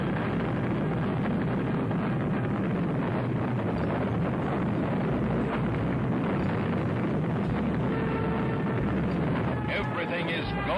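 An Atlas rocket lifts off with a Mercury capsule aboard, giving a dense, continuous roaring rumble with wind-like noise that stays loud and steady throughout.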